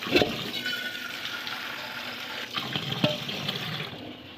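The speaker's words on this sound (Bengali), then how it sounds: "তরকারিগুলো ধুয়ে নেব" Tap water runs steadily into a sink as freshly cut eggplant and potatoes are washed in a home kitchen, with faint clinks and splashes over the flow and no speech.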